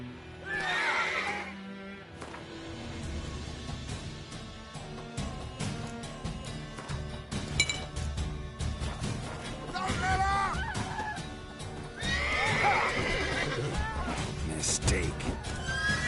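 A horse in the video game The Witcher 3 neighs loudly twice, with hoof clip-clops and shuffling between the whinnies, over game music and voices.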